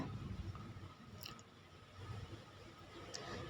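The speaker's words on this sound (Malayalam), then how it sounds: "അവിലും കൂടെ ചേർത്തിട്ട് നല്ലതുപോലെ ഒന്ന് ഇളക്കി മിക്സാക്കി എടുത്താൽ മതി" Flattened rice (poha) is stirred into a mixture in a pan over a low flame, giving soft, faint scraping and crunchy rustling in a quiet kitchen.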